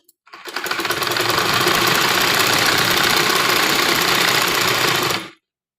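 Sewing machine running continuously while stitching the back part of a little girl's frock, a loud, close mechanical whir with fast rhythmic clatter, starting abruptly and stopping after about five seconds.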